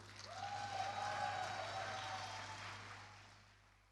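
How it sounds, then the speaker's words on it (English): An audience at a debating championship grand final ceremony gives a round of applause to the convener. The clapping is faint and distant and tapers off toward the end. "Please give a round of applause to Ms."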